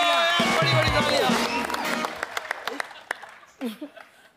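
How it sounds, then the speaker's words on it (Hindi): A studio audience on a comedy talk show breaks into applause after speech and music, the clapping thinning into scattered individual claps that fade out. "गंदी गंदी तालियां, बड़ी बड़ी तालियां।"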